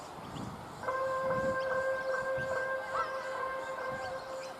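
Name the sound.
school bell ringing to end class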